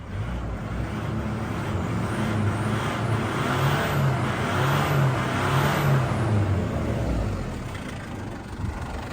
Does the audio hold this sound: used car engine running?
yes